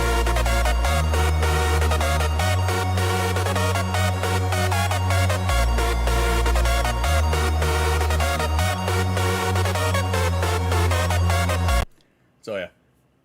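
A piano composition played through a software instrument plugin, with steady sustained bass notes under dense, busy chords. It plays loudly throughout and cuts off abruptly near the end, followed by a brief faint noise.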